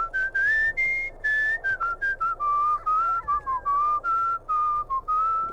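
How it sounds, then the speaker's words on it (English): A melodic whistled tune from a video game plays steadily and clearly, its phrases separated by brief pauses, with no talking over it. "I just really like the whistling"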